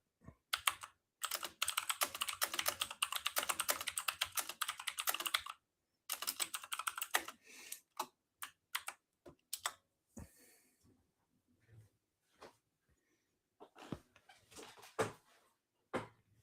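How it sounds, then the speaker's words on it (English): Fast bursts of computer keyboard typing, close and clear, running steadily for several seconds before thinning into scattered separate key clicks and pauses. "just listen to me type"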